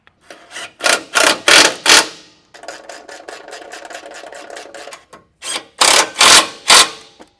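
Bolts on Toyota Land Cruiser 250 rock sliders are tightened down by hand: bursts of loud ratcheting clicks, a longer steady run of rapid ratchet strokes in the middle, then more short ratcheting bursts, close and without talk.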